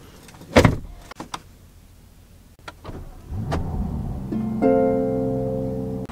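Electric front windows of an armored Mansory Rolls Royce Cullinan, with a few soft clicks and thumps, then a steady motor whine that rises into a sustained hum as the heavy glass travels down.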